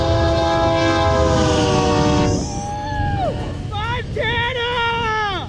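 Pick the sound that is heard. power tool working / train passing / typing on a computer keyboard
train passing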